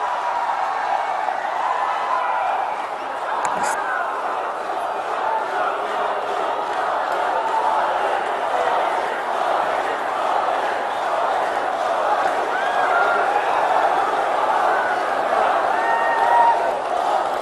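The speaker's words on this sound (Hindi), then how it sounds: "तालियों की गड़गड़ाहट से स्वागत करें भारत के माननीय प्रधानमंत्री श्री नरेंद्र मोदी जी का।" A large rally crowd in Karbi Anglong welcomes Prime Minister Narendra Modi with sustained cheering, applause and shouts, a broad, steady roar heard from within the gathering.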